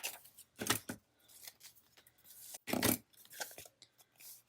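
Excess paper trimmed off a scrapbook page, heard as short close crisp cutting and tearing rustles in separate bursts with quiet gaps between them.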